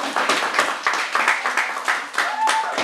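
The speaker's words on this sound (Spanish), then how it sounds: "Y les damos un fuerte aplauso." An audience claps for the actors after a short film screening at a workshop, a steady, close patter of many hands with voices faintly mixed in.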